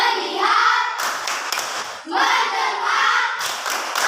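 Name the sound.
class doing a rhythmic 'tepuk fokus' clapping chant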